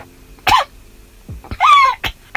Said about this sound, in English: I get to cough.